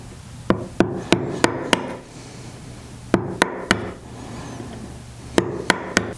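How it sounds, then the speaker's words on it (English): A chisel is struck repeatedly while cutting wood for a walnut inlay in an end-grain cutting board, giving sharp, close knocks in bursts of four or five with short pauses between groups, alone with no talking. "so the rest of the work will be with the chisel."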